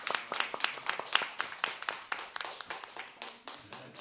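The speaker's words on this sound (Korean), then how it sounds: "박수로." A crowd claps steadily through a 2020 Sunday school certificate ceremony at Haengdang Jungang Church, with many overlapping hand claps forming warm, continuous applause for about four seconds.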